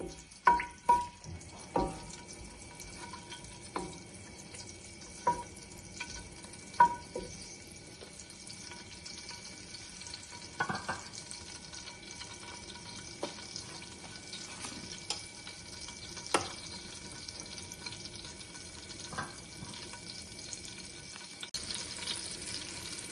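Pan of curry base for Telangana-style fish iguru, with green chillies, curry leaves and a little fenugreek powder roasting in oil: a steady low sizzle and frying crackle with scattered clinks of stirring, no talk.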